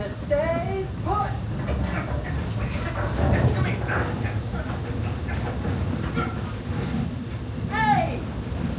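The Walt Disney World Railroad train rolls along with a steady low rumble and hiss, its wheels running continuously beneath voices talking and chirpy character dialogue.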